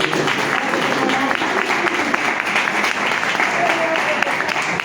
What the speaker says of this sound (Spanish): También quiero pedir un aplauso para el editor de este libro